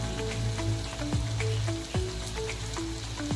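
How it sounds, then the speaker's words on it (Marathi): Onion frying in a pan for besan pithla, a steady close sizzle with a few light pops and spoon scrapes, short and without speech. "आपला कांदा चांगला शिजून घ्यायचा आपल्याला"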